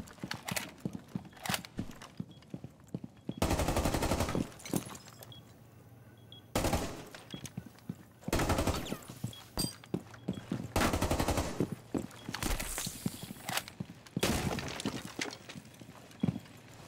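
Gunfire in a one-on-one video game gunfight: loud bursts of rapid shots alternate with brief quieter gaps, all fairly close and punchy, with no talking.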